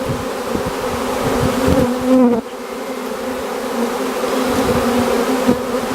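A honey bee swarm arrives at a nuc hive: a loud, dense, continuous buzzing of many bees, steady and close throughout, with a few individual bees droning nearer for moments.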